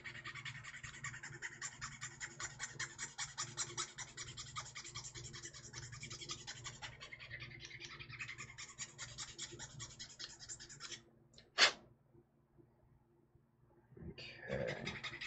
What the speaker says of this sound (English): So we're gonna break out the half round chisel again, or the half round file again, and we're just gonna kind of go to work on this thing